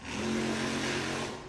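A monster truck's engine roars in a loud, sustained rev during a slap wheelie at a Miami, Oklahoma event, holding a steady droning pitch close by without any talking.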